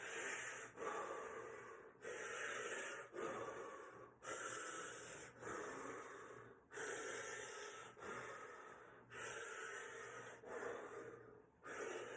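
A person breathes slowly and deeply while stretching and moving the arm, with about eight long airy inhales and exhales in a steady rhythm, close and soft against a quiet background.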